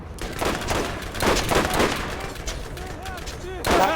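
Carbine gunfire in a video game, a rapid run of loud, close shots in quick bursts with short gaps, ending in a final sharp volley.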